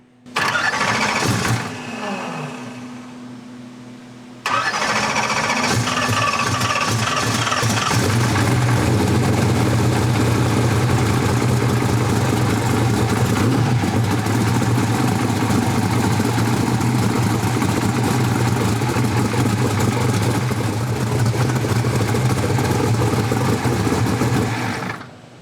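An engine cranks and starts after a fresh oil fill, then settles into a steady, loud idle that runs continuously.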